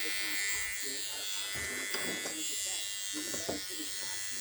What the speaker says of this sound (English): electric seam ripper. You turn it on.